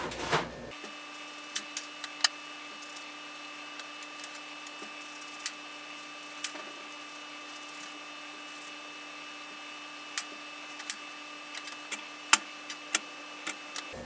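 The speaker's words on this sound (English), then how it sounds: "I get to use the food processor again." Food processor chopping mushrooms for lasagna in a home kitchen, with a steady, fairly quiet motor hum and faint whine running throughout, broken by scattered sharp clicks and ticks.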